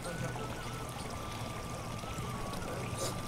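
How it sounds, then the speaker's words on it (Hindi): Rose petals pour into a furnace vessel over water while making rose water, a steady rushing, trickling pour filling the whole stretch at moderate level with a faint tonal hum beneath; someone talks over it. "ये अर्क गुलाब बनने के लिए गुलाब की पत्तियाँ भट्टी में डाली जा रही हैं।"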